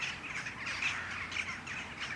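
Crows and smaller birds skirmish outdoors, with harsh cawing and sharp squawks repeating through a steady bed of bird noise at moderate distance.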